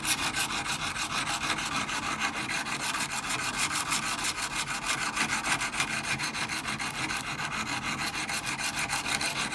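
Steady, even rasping of a file or stone sharpening a rust-damaged antique hand tool, a continuous rhythmic scraping stroke after stroke, close and moderately loud with no voices.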